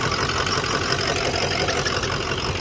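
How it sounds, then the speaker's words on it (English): A hotshot truck's engine rumbles steadily at idle despite its new radiator, with a rough, shaking tone and possible turbo trouble, loud and continuous with no talking. "Engine is shaking like"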